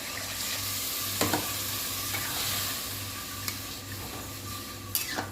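Fried masala for a paneer curry with cashew paste, steady sizzling in the pan with water just added, spoon strokes scraping rhythmically and a few sharp clinks against the pan.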